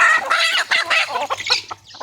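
Native chickens and a rooster cluck close by on a small poultry farm, a busy run of overlapping clucks and squawks that trails off into quieter calls.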